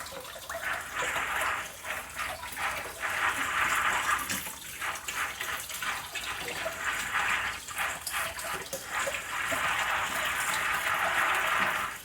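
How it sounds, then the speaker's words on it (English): Tap water runs steadily into a sink as field peas, zipper and white acre, are rinsed by hand, with a continuous close splashing flow that surges and eases over about twelve seconds. "I'm going to continue washing all these peas"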